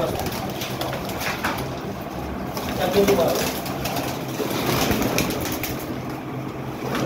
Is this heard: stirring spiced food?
no